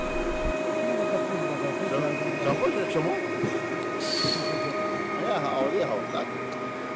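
A train rumbles past on the tracks with steady, continuous rolling and clattering noise, a high squeal rising briefly midway.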